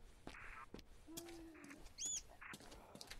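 A bird calls in the video game Silent Hill: Downpour, a few short chirps and a brief hooting note scattered over quiet game ambience, fairly faint with gaps between sounds.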